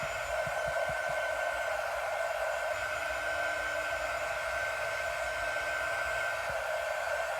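A quick dry heat tool on its high speed runs as a steady, loud blowing hiss with an even whine, continuous and close, used on chalk paste over wood for vintage truck decor.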